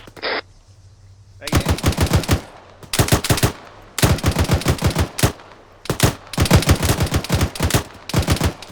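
Automatic gunfire in the ArmA 3 military game: loud, close bursts of rapid shots in repeated volleys with short pauses between them, no speech.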